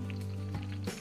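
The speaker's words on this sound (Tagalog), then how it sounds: "Gisa po tayo ng bawang." Garlic sautéing in a pan gives a faint, steady sizzle beneath a low electrical hum, with a couple of small bumps.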